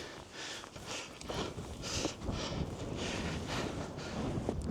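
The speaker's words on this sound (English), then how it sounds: "It is so windy today" Gusty wind buffets the microphone on a sandy English coast, producing rumbling low-end roars and bursts of hiss that rise and fall without a break.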